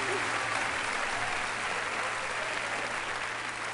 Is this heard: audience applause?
yes